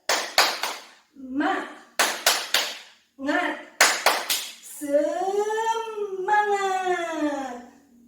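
A group claps in quick rhythmic bursts for the 'tepuk semangat' chant, the claps interleaved with voices calling out, ending in a long sung shout of the chant word.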